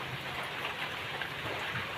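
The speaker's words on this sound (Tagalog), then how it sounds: "bumuhos na naman ulit ang ulan" Heavy rain pours steadily onto a hut shelter during a long rainy spell, making a dense, continuous hiss that stays loud and unbroken throughout, with no talking.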